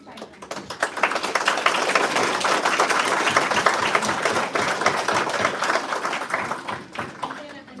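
An audience at a hospital board meeting applauds in a sustained burst of loud, dense clapping with some voices mixed in, easing off slightly toward the end.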